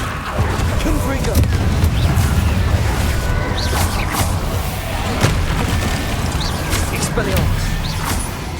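Confringo blasting-spell explosions in the Hogwarts Legacy video game, a series of booming blasts and crashes spread through the combat, heard under a voice casting spells.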